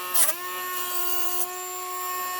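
A power tool whines at a steady high pitch while it strips surface rust from a Dinky toy army truck, with a sharp scraping burst near the start and a brief catch later.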